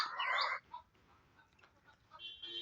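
A chicken gives a loud clucking squawk up close at the start, then faint clucks and rustling follow in a quiet backyard poultry yard in Konkan.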